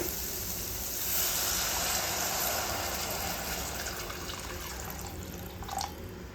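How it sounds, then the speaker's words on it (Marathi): Water poured into a pan of ridge gourd curry makes a steady, fairly faint rushing splash that holds for several seconds and eases off slightly toward the end. "आता दोडक्यामध्ये आपल्याला पाणी घालायचंय"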